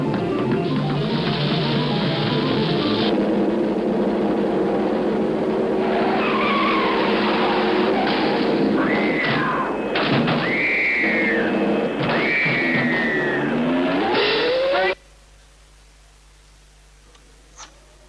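A car in a film scene skids and squeals its tyres at length, a loud continuous roar of engine and screeching rubber with rising and falling tire squeals, cutting off abruptly to near silence.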